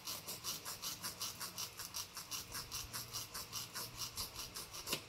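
A file rasps back and forth against a feather laid on a board, about two rhythmic strokes per second repeating evenly, close and fairly quiet with no talking.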